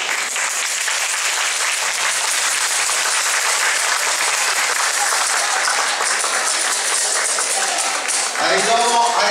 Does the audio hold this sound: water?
no